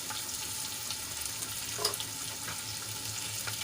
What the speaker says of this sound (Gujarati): લસણ આપણું સંતળાઈને લાલ થઈ ગયું છે તો એમાં આપણે એક કાપેલું લીલો મરચું એડ કરીશું